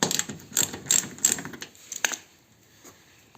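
Ratchet wrench loosening 10 mm hex-head bumper screws on a Citroen Jumpy van, a run of quick mechanical clicks in the first second and a half, then sparser isolated ticks fading toward silence.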